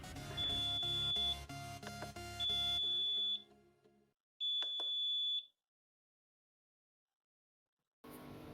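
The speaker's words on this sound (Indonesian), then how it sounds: "maka buzzer akan berbunyi." A syringe pump analyzer's buzzer sounds after a measurement, giving a steady electronic tone in three long beeps of one to two seconds each, loud and close, with silent gaps and a clatter of noise at the end.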